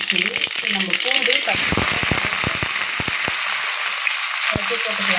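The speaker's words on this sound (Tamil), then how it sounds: "கடுகு பொரியட்டும்." Mustard seeds spluttering and garlic frying in hot oil for a fish kulambu, a steady close sizzle broken by sharp popping crackles, with some voice sounds mixed in.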